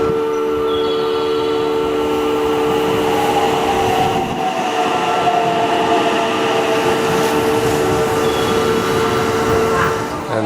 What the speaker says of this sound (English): And this train, the Thunderbird,